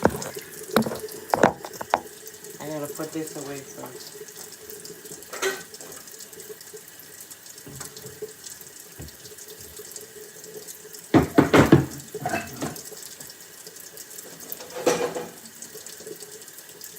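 Warm tap water runs steadily into a kitchen sink during dishwashing, a constant hiss broken by clinks and clatters of dishes. A few brief spoken words come in over it.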